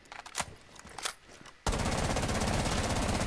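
Gunfire in Rainbow Six Siege: a few scattered single shots give way to a loud, sustained burst of rapid automatic fire, close and continuous to the end.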